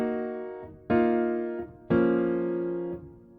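Three sustained synth chords, inverted voicings built in FL Studio, each struck cleanly and held about a second with bright, harmonically rich sustain, the later chords starting louder and decaying gently.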